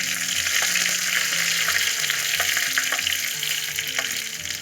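Shallots and broken dried red chillies sizzle steadily in hot oil for a Kerala pineapple madhurakkari, a loud continuous frying crackle with scattered sharper pops and occasional stirring clinks, no talking.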